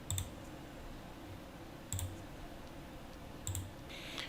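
Three crisp computer mouse clicks spaced evenly about every second and a half, quiet and close against a faint background hum, no talk.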